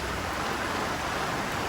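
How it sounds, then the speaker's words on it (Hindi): Heavy rain pouring down on a street in Kerala, a dense, even hiss of falling water that stays constant and fairly quiet throughout, with no voices. "ये देख लो छतरी, इतनी बारिश में"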